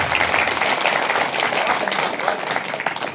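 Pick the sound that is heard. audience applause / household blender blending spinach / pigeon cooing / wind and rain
audience applause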